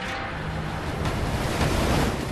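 Ocean waves break steadily on a rocky Oregon shoreline beneath tall fir forest, a continuous near roar of surf with wind noise across the whole stretch and no voices.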